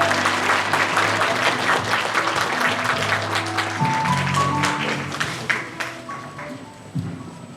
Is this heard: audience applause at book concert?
yes